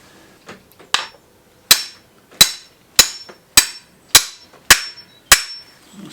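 A bike headset sleeve on a Sonder Frontier mountain bike is hammered into place: about eight sharp, close metallic strikes land at a steady pace, each ringing briefly, with no talk.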